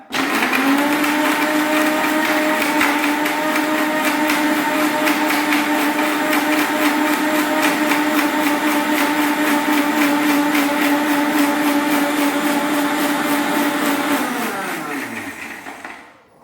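An electric mixer grinder whirs loudly and steadily while blending ingredients into homemade milk, a close continuous motor whine lasting about fifteen seconds before winding down as it is switched off.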